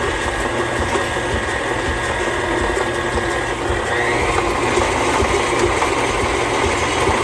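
An electric mixer beats cookie dough for snowball Christmas cookies with a loud, steady motor whir close by. Its pitch shifts partway through as the speed is lowered, and no one speaks.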